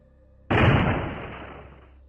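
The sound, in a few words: loud crash in a room, animated story sound effect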